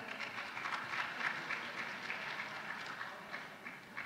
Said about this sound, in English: So a big round of applause for all of you once again for getting that correct.